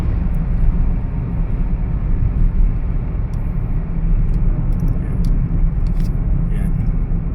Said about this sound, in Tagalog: So malalaking truck po yung mga nandito ngayon.